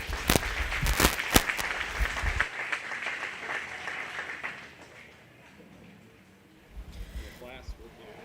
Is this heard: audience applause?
yes